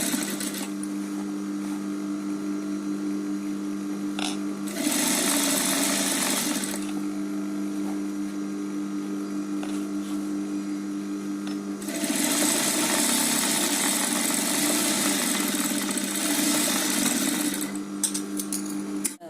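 A sewing machine stitches a cloth bag in several bursts, a steady whirring hum with quiet pauses between runs, close and fairly loud with no talking.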